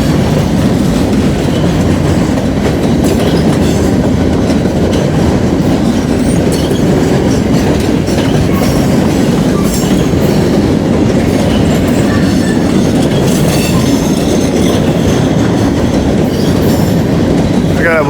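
An empty freight train rolls past close by, its wagons keeping up a loud, steady rumble with clickety-clack from the wheels throughout.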